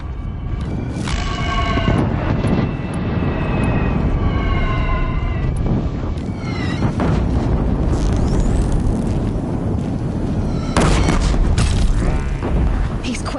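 Deathbringer machines firing explosives in Horizon Zero Dawn, loud repeated booms and mechanical blasts churning continuously over battle noise, with voices speaking at times.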